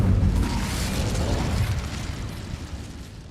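An Incendio fire spell in Hogwarts Legacy, a loud roaring burst of flame with deep rumbling that slowly fades over a few seconds, no speech over it.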